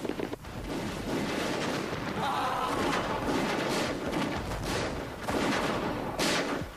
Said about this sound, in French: le lieutenant Dease prend les commandes de la mitrailleuse